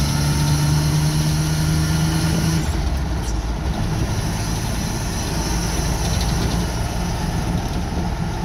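A car engine with a lumpy, uneven idle runs steadily and loud throughout, a low rumbling drone that shifts slightly partway through, with no talk.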